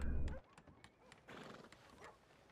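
A video-game horse lets out a loud, close whinny, then a few soft clip-clop hoofbeats follow in a short, quiet moment.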